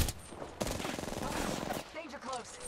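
Gunfire in an Apex Legends match, rapid automatic bursts rattling close and loud with a brief pause between volleys, while a player talks over the shooting.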